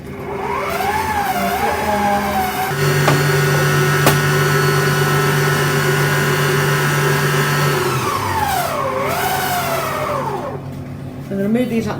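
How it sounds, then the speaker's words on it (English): Electric stand mixer beating brownie batter, a loud steady motor whine that ramps up in pitch, holds at speed, then winds down near the end, with a steady hum throughout. "I'm going to put this back onto the mixer. And I'm going to give this a good mix."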